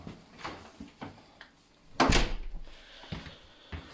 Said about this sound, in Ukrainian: Ось така двері у нас.